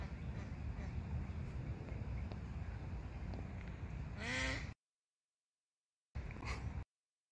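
Outdoor noise with a few harsh honking calls from waterfowl near the end, followed by silence and a short burst of the same sound; a voice talks over parts of it.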